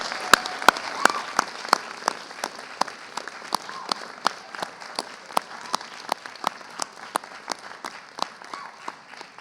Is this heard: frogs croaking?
no